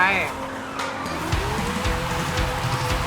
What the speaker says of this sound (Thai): ไปครับดึงเบรกมือสไลด์ยาว ๆ